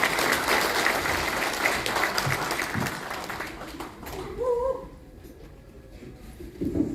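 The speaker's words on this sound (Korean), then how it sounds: "여러분들 큰 박수로 맞아주시면 대단히 고맙겠습니다" An audience claps at a year-end gathering to welcome a speaker. Steady applause fills the first few seconds, then fades into quieter room noise with a few brief sounds.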